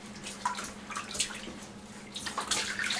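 Soft wet squishing and splashing as foaming baby soap is scrubbed into a baby's hair during bath time, close and gentle with quiet water sounds, no talking.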